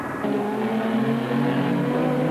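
Group A touring race cars at the Australian Grand Prix support race produce a sustained engine roar that swells as they pass, with a commentator talking over it.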